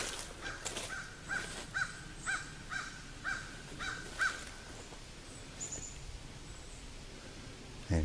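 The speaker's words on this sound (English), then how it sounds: "There's the damn crow again." A crow caws repeatedly outdoors along a woodland trail, a string of six or seven harsh calls in an even rhythm at moderate distance, then quieter rustling.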